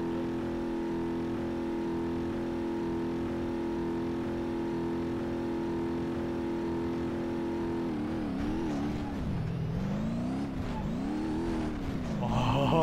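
A car engine in BeamNG.Drive idles steadily with a droning tone, then revs up and down in several rising and falling sweeps, fairly loud and without talk.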